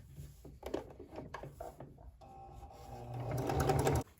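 A Kenmore 385 series sewing machine runs a serging stitch on knit stretch fabric, starting with uneven bursts and short stops, then settling into a steady, louder mechanical whir near the end before it stops abruptly.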